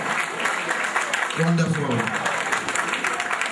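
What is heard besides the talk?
audience applause for golden anniversary celebrants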